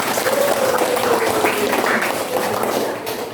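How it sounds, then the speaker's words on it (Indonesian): A class gives a round of applause, a dense wash of many hands clapping at moderate level that runs throughout and eases slightly toward the end. "Beri tepuk tangan untuk kita."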